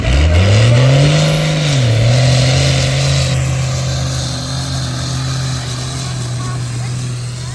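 A loud, droning turbocharged tractor engine roars nearby at a steam rally, its pitch rising then settling into a steady hum, with a faint high whine above it.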